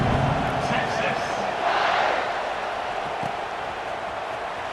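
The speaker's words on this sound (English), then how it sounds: "Do you think this crowd's going to get loud when their defense comes on the field?" A football game crowd in a stadium makes a broad roar of cheering, with a commentator talking over it throughout.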